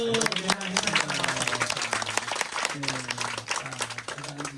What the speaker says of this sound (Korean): 예, 박수하시죠.